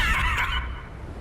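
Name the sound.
horse neighing in a video game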